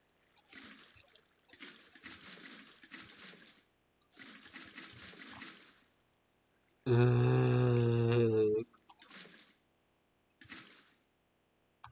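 Flowing water in Minecraft comes in soft trickling bursts of a few seconds each, separated by silences, while a loud tonal electronic tone briefly cuts in midway.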